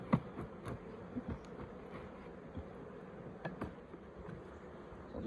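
Honey bees buzz around an open hive being packed down by a beekeeper on a frosty morning, a steady close drone of many wings with a few brief knocks and scrapes of hive parts.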